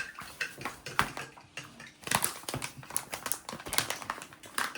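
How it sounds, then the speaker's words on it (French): Quick fork strokes beat a liquid mixture in a bowl, like whisking eggs, producing irregular clicking and sloshing taps up close, with no voices. "Et si on prenait une fourchette pour les battre comme des œufs en fait."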